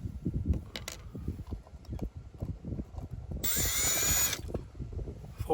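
A power drill spins briefly, a steady whine of about a second near the middle, set against a low background rumble while screws come out during a dash cam install on a 2024 Chevy Colorado truck.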